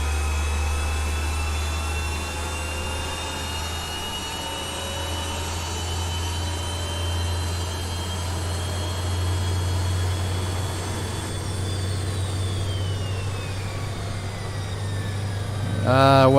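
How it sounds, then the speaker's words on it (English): A BAE Hawk T1 jet engine spools up in a flight simulator game, a steady whining drone with rising tones holding throughout, swelling slightly near the end. "When this engine is really up and running, don't stand here in real life, but also not in the sim"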